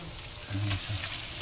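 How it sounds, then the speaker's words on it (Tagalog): Onion and garlic hit a hot pan for rice porridge, giving a short burst of bright sizzling frying with a faint stirring scrape, close and fairly loud. "Ilagay natin ang sibuyas bawang kung saan nandito na."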